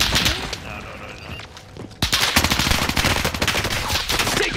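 Rapid automatic gunfire in a Call of Duty: Warzone quads match on Fortune's Keep, dense crackling bursts that grow louder and more continuous halfway through, with overlapping shots and impacts.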